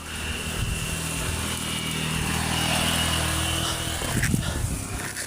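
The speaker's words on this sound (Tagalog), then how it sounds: "may motor na yung mga bandido." A motorcycle engine hums steadily and grows gradually louder as it nears, with a brief rougher burst of noise toward the end; no one speaks.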